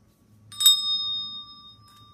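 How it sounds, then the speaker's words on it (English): A single bright ding from a small bell, like a bicycle bell, signalling cleanup in a school art room, its clear tone ringing on and fading slowly in an otherwise quiet room. "That's the cleanup bell."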